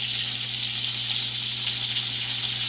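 Fish fries steadily in hot oil, giving a loud, continuous hiss and crackle close by with no pauses.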